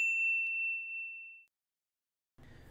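A notification bell ding, one clear bright tone ringing out and fading over about a second and a half, then silence before another sound cuts in.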